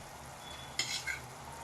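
Egg kadai masala frying in oil in a pan, dhaba style: a soft, even sizzle runs throughout, broken briefly by a couple of brighter scraping stirs near the middle.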